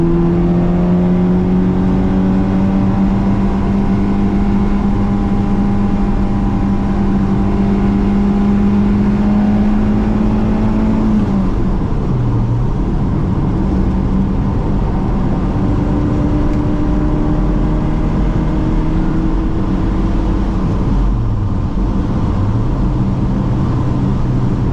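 A 1984 Bertone X1/9 on a drive, its engine droning loud and close from inside with rising tones through the gears, dipping briefly at shifts, then pulling steadily again.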